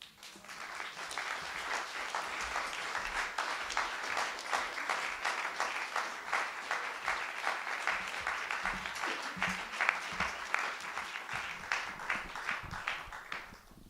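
A festival audience gives loud, sustained applause for readers and writers: dense, continuous clapping that holds steady for about fourteen seconds with no speech over it.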